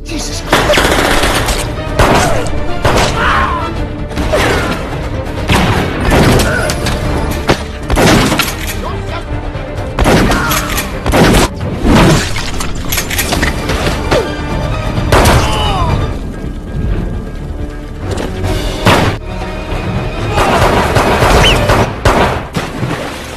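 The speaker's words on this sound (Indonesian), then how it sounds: "tiba-tiba John melihat seseorang menggunakan pedang untuk membunuh, dan baku tembak pun terjadi" Film shootout gunfire: loud, dense bursts of automatic fire and single shots with booms and shattering debris, continuous across the scene.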